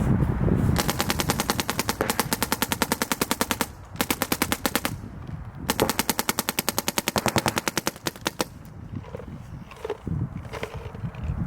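A MacDev Prime XTS paintball marker fires on NXL ramp mode, loud close bursts of very rapid evenly spaced shots in several long strings, separated by short pauses with outdoor background noise.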